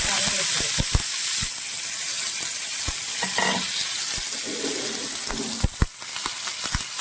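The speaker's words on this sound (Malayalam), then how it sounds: "എണ്ണ ചൂടായിട്ടുണ്ട്. നമുക്കതിലേക്ക് കടുക് ആദ്യം ഇട്ട് കൊടുക്കാം." Mustard seeds, shallots and dried chillies fry in hot oil in a pan: a continuous close, loud sizzle dotted with sharp pops and crackles of bursting mustard seeds, with occasional stirring scrapes and no talk.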